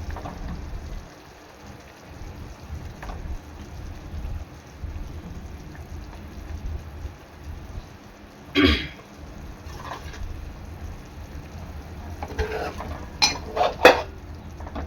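Kingfish pieces go into a pot of boiling tangy fish curry, with a steady low bubbling hiss broken by a few sharp clanks and splashy knocks of the pot and spoon.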